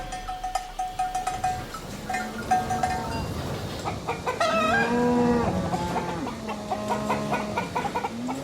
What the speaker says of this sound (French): Son cri est aussi bien connu, c'est le fameux cocorico.